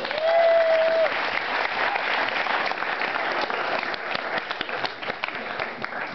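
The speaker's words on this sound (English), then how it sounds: "please applaud that" Audience applause at a college event at Dartmouth, a large crowd clapping loudly and continuously throughout, steady and dense with a brief tonal sound at the start.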